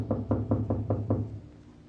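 Knocking on a door in an old-time radio crime drama: a series of about six firm, evenly spaced raps, close and loud, with a low background hum and no talk.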